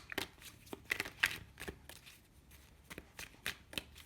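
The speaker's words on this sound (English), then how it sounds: "Let's pull some more cards for just general clarification here." Tarot cards are shuffled and pulled by hand, making close, quiet bursts of riffling and sharp card snaps at an irregular pace, with no speech.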